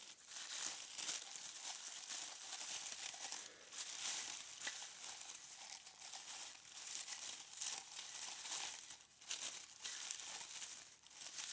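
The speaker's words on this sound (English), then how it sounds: "So let's remove the wrapping paper" Wrapping paper around a Denby light grey vertical wax large mug is unwrapped, giving steady close crinkling and tearing rustles that run continuously with brief dips, with no talk.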